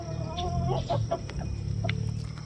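A young black pullet, about five months old, clucks in a string of short, pitched calls from close by, with a steady low background hum and no talking.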